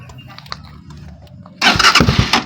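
A broken-down motorcycle engine cranks and sputters to life after a quiet stretch with faint clicks, then runs loudly and unevenly.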